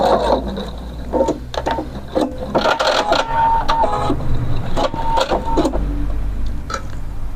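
A sewing machine makes a backstitch at the corner of a rounded hem, whirring close and loud in stop-start rhythmic runs of stitching with brief pauses and reversals.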